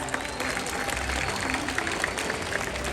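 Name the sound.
audience applause at SeaWorld orca show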